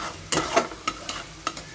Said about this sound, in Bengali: সোয়াবিনের তরকারি বসিয়েছি, মশলাটা কষছি।